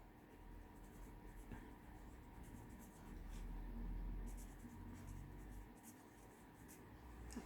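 A pen scratches across the pages of a tea-bag journal, a faint, close, continuous scribbling texture with small strokes over a low background hum, no speech.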